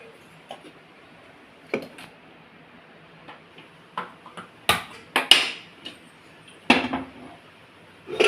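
Pots and cutlery clink and tap in short, scattered knocks while dal is set to cook in a pressure cooker in a home kitchen, with a quiet stretch between a few louder metallic clatters.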